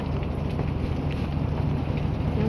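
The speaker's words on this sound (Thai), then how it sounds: "ฝนยังบ่หยุดตก" Heavy rain falling outdoors on the road to a market, a steady, dense hiss without pauses at moderate loudness.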